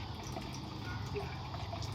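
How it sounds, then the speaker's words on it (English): Cold water runs steadily from a kitchen sink tap, a continuous faint rushing hiss with no clear breaks, heard at moderate distance. "under running cold water to cool down your fingers"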